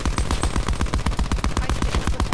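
Rapid automatic gunfire from the video game Black Ops 4, a steady loud burst of shots at an even rhythm through the whole stretch, with no voices.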